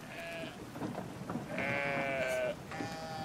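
Sheep bleat in the video game Brothers: A Tale of Two Sons, giving several short, wavering calls at low volume against a quiet game background.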